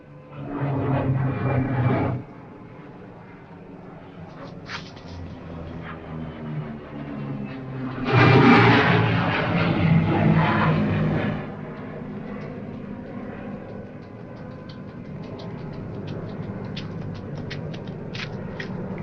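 A propeller airplane in a 1942 film drones overhead, rising to a louder pass in the middle and then fading. An orchestral score and crackly old soundtrack noise sit underneath.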